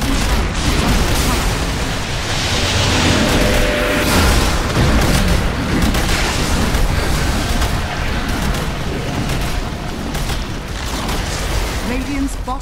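Dota 2 tower collapsing in a match, heard as dense, loud booms and crashing explosions layered with busy battle noise throughout, steady and continuous with no clear pause.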